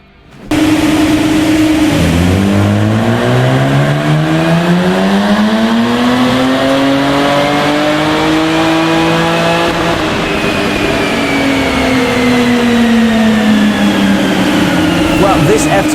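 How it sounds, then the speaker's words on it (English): A tuned Jaguar F-Type with upgrades making about 450 brake horsepower runs on a dyno, its engine roaring loud and close as revs climb steadily, dip, then sweep up again in long sustained pulls. "it's time to get this F-Type strapped back onto the dyno to find out exactly what difference all those upgrades have made"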